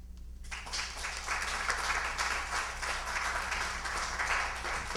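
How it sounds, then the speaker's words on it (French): Sustained applause from an audience at a celebration of Haitian literary victories, following a speech; the dense, even clapping starts abruptly after a brief quiet moment and holds steady with a low hum beneath it. "Oui, elle mérite bien des applaudissements."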